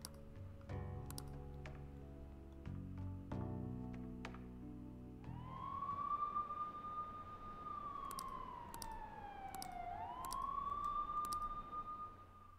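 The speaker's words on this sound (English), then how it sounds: "that siren was loud" A loud wailing siren in the Persona 5 Royal video game rises and bends in pitch over several seconds, following a stretch of clicky keyboard-like taps and layered tones.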